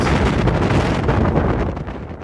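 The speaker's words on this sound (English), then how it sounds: "we're just having an accurate representation of how windy it was" Strong wind buffets the microphone in a bluebell wood, a continuous loud, roaring rumble with no other sounds breaking through.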